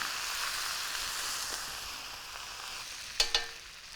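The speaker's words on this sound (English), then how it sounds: "And make sure you toss that really," Chow mein tossed in a hot wok with a splash of rice wine gives a soft, steady sizzling hiss that ends in a couple of sharp clacks from the wok.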